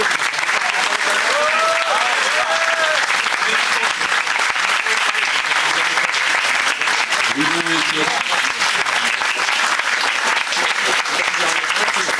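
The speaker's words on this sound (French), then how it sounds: "Et on peut les applaudir très très fort." Loud, steady applause from an audience at a JSP event in Terrasson, continuous dense clapping with a few voices calling out faintly beneath it.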